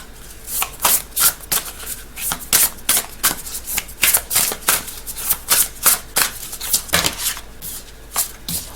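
A deck of playing cards being shuffled during a card reading, with rapid riffling bursts repeating in a steady rhythm, close and fairly loud, with no voices.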